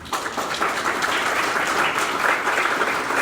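Dense, steady applause fills a room of attendees at the opening of a downtown conference center in Ithaca, loud and close, with no break for its full length.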